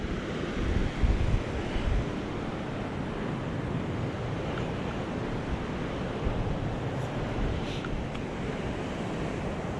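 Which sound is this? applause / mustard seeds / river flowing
river flowing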